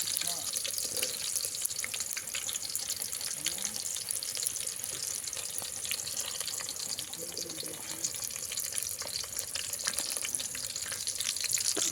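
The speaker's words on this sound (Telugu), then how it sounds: "నూనె పోసుకున్న తర్వాత ఎర్రగడ్డలు వేసుకుందాం లైట్గా." Onions frying lightly in oil in a pan for a village-style country chicken curry, outdoors in a mango orchard, giving a steady close crackling sizzle with faint water-like hiss throughout.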